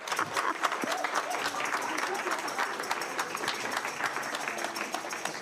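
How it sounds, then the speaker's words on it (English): Audience applause fills the room for panelists at a treaty and language conference panel, a steady dense round of clapping at moderate level with some talk mixed in. "Can we all thank our panelists with one more round of applause?"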